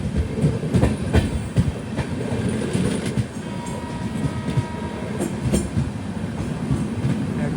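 A Hatia Express train runs from Patna to Ranchi on an overnight Bihar to Jharkhand route, heard from inside a 3AC coach. A steady, loud rumble with rhythmic clickety-clack of the wheels continues throughout, with no voices.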